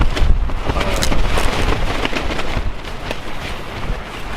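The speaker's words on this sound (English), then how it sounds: "The wind is unrelenting." Strong wind buffets the microphone at a lakeside wilderness camp near Thousand Island Lake in the early morning, a loud, continuous roar with gusty surges throughout and no one speaking.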